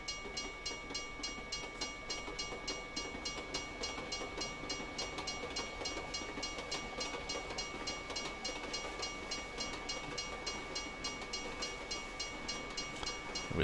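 A train passes a level crossing in Euro Truck Simulator 2, its wheels clicking in an even, continuous rhythm alongside a steady crossing tone, moderately loud throughout.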